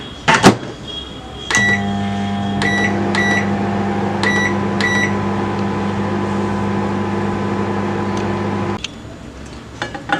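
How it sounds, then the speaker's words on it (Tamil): A microwave oven drying manathakkali leaves: button beeps, then a steady loud hum runs for about seven seconds before stopping, with clicks and handling noise around it. "மற்றதையும் வந்து நம்ம மைக்ரோவேவில் வச்சுக்கலாம். இதையும் வந்து நம்ம 3 minutes வச்சு நம்ம வந்து ட்ரை பண்ணிக்கலாம்."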